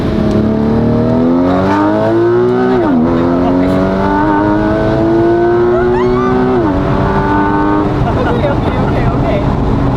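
A Porsche GTS Street Cup engine revs hard under way, the pitch climbing through gears with brief dips at shifts, loud and close throughout, with people's voices mixed in over it.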